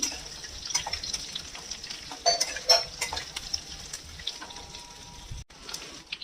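Raw tomato and bitter gourd are stirred in a pan, giving soft intermittent scrapes and clinks over a faint, low sizzle, fairly quiet and with no voices.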